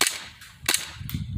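A BB gun fires in sharp, close cracks, three distinct snappy shots spaced unevenly over a second and a half with quiet between them.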